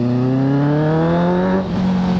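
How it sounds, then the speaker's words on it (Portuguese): A Honda CB650F motorcycle with a 4-into-1 exhaust roars at high revs, a loud harmonic engine tone rising steadily before dipping briefly as it shifts and resumes, close and alone. "Mas o ronco tá demais essa moto, cara. Esse escape aqui..."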